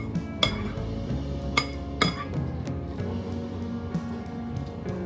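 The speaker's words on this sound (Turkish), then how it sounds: "karıştıracağım." A spoon stirs in a dish, giving a run of light clinks and taps against the bowl at irregular intervals, close by and fairly soft, with no talking.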